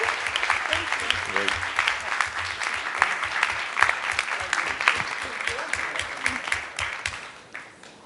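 Applause from an audience at a school board of education meeting in Hastings-on-Hudson, steady dense clapping for several seconds with faint voices underneath, tapering off at the end.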